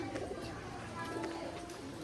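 Performing pigeons at a friend's house coo softly and repeatedly, the calls blending with a busy background and faint indistinct voices.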